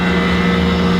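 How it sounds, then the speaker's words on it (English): The engine cooling fan of a 2015 Evo X whirs steadily, a loud, close, even hum with no change in pitch and no voices. "The engine fan's going off right now. You can hear it spinning."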